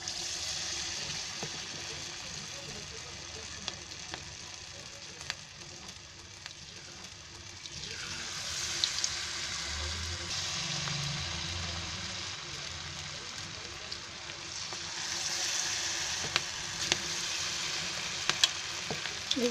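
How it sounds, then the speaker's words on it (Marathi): Small cabbage Manchurian fritters dropped into hot oil, a steady bubbling sizzle that swells louder as more pieces go in, with faint clicks of a spoon. "तेल ठेवलं आहे गरम करायला, तेल पण तापलं आहे. आता त्याच्यामध्ये आहे ना हे असे छोटे छोटे टाकते."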